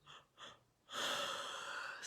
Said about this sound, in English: There's my yawn.